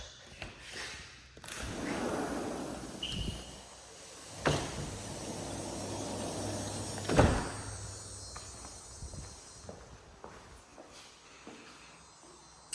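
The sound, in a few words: telescoping sliding glass doors opening onto screened porch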